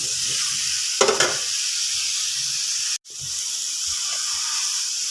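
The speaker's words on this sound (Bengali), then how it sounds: "এরপর করলাটা দিয়ে দিলাম। এটা একটু নেড়ে নিচ্ছি" Sliced bitter gourd stir-frying in a hot pan for Bengali shukto, a continuous bright sizzle with short bursts of louder crackle as it is stirred and a brief break in the middle.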